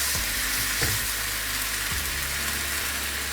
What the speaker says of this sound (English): we're just going to sear all the different sides of this beef tenderloin